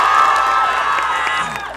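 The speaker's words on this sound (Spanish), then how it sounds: "¡Aplausos para los de este lado!" A crowd at an outdoor event applauds and cheers loudly for almost two seconds, with whoops and shouting over the clapping before it begins to fade.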